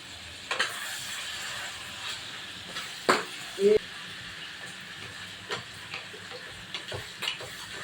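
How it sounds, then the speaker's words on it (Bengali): Chilies, cumin, cinnamon, dried chilies and onion fry in hot oil for a chicken curry: a faint, steady sizzle with scattered sharp pops and clicks, with soft talk around it. "এই যে তেলের মধ্যে দেওয়া হচ্ছে লঙ্কা, জিরে, দারচিনি, শুকনো লঙ্কা, আরো কত কি আছে। এবারে পেঁয়াজটা দেওয়া হচ্ছে।"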